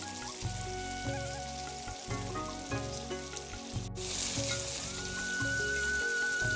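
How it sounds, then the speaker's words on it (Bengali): Fish pieces dropped into boiling fish curry (macher jhal) with a steady, crackling sizzle and bubbling throughout, close and moderately quiet, with background music playing underneath. "মাছের ঝালের ঝোলটা ফুটে গেছে, এর মধ্যে আমি মাছগুলো দিয়ে নেব।"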